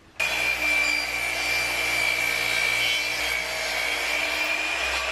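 A power saw cuts through wood at a 45-degree angle, starting abruptly and holding a loud, steady whining buzz for about five seconds, close by, with no speech.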